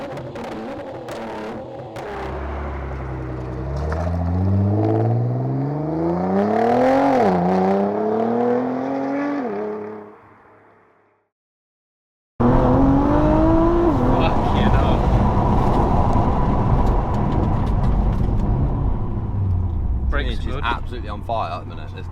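A 650bhp Nissan GTR revs hard and accelerates through rising, stepping engine pitch, drops out briefly, then resumes as loud steady engine and road roar with people talking over it.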